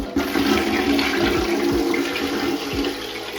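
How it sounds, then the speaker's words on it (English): A household toilet flushing after a toy was removed from it, a loud continuous rush and swirl of water with gurgles, close by and alone, easing off at the end. "let's go ahead and flush it and take a look and see what happens"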